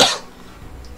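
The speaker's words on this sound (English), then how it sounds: "I'm really hoping the coughing doesn't come across too loud in the audio" A single sharp cough bursts out at the start, loud and close, then trails into faint rustling with a small click at the end.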